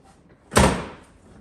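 A back door on a RZR 1000XP four-seat side-by-side makes a single sharp, close thud that fades quickly, with nothing else around it.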